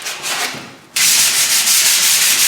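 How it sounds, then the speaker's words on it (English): Fine-grade sandpaper rubbed over a wooden table leg on a final pass, a steady scratchy rasp that pauses briefly, then resumes louder and continuous, close up with no talking. "just doing a final pass over with the sandpaper, using a fine grade"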